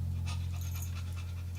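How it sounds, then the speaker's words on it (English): A dog pants steadily, a rapid rhythmic breathing heard close and fairly quiet over a low steady hum. "That's my dog."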